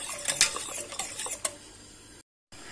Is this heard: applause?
no